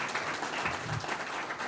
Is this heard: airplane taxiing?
no